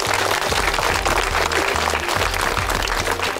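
Village audience at a Paikapada Village show clapping together in a loud, continuous burst of applause, close and dense from start to finish.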